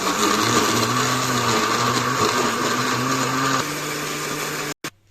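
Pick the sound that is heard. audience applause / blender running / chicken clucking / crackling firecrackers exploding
blender running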